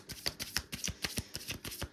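New tarot cards being shuffled, a quick steady run of crisp papery riffles and flicks repeating about every quarter second, close and fairly quiet with no talking.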